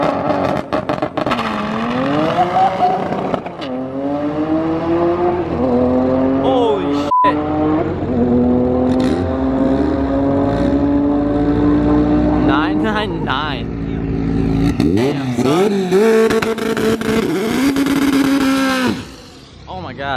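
Subaru BRZ racing at a track, its engine loud and near, revving up through several gear shifts with rising and falling pitch, then fading slightly as it passes.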